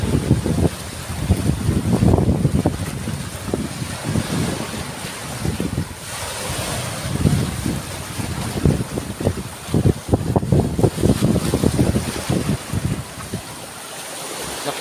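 Strong amihan monsoon wind roars steadily at the shore, blustering against the microphone with broadband rushing gusts over surf, continuous and loud throughout, no voices.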